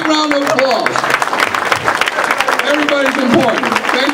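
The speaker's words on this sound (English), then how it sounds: "Please stand up and give yourselves a big round of applause" Standing audience at a community gala evening applauds steadily for about four seconds, with continuous clapping mixed with overlapping voices and music-like tones throughout.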